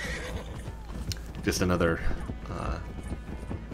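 A horse whinnies loudly while its hooves thud and clatter in Red Dead Online, the rider running it into a pole; someone talks briefly over the neigh.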